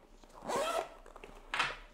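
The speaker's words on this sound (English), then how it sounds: "One pocket up here. Nice zipper." Two quick zipper pulls on a HORIZN bag pocket: a longer rasping zip followed by a shorter one, close and clear with no talk.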